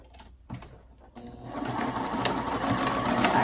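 A sewing machine stitches the lining of a fabric ID badge holder, its motor starting after a brief pause and then running steadily and close up for several seconds, with no talking.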